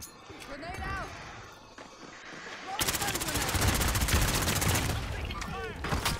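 Rapid bursts of automatic gunfire from Call of Duty's Plunder mode, growing into a loud sustained barrage in the second half, with footsteps and excited players talking over the shooting.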